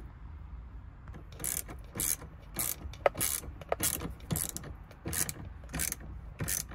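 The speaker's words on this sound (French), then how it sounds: "on reprend les cliquets, ils sont là avec les 10 et on resserre les deux vis des deux côtés tout simplement" A 10 mm ratchet wrench tightens screws while mounting a rotating screen in a Tesla, giving repeated bursts of close, loud clicking strokes separated by short pauses.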